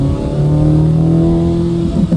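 A car on its factory stock exhaust in track mode revs in a steady, loud, droning engine note that climbs slightly and holds, close by, with no talk.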